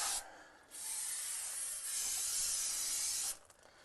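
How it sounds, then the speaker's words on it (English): Cleaner sprayed from a can onto a BMW's red M brake caliper and brake parts, a loud close hiss that gives a short burst, then one long sustained spray of about two and a half seconds before cutting off. "it is safe to spray this on the brake parts"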